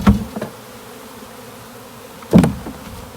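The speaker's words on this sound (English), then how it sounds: "shake these bees off." Honeybees shaken off a hive frame during the hiving of a split give two sharp bursts of loud buzzing with knocking thuds, first at the start and again near the end, separated by a quieter steady hum.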